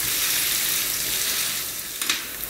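A shredded green onion and beef brisket pancake fries in oil over medium-low heat, giving a close, steady sizzle with a couple of light clatters near the end.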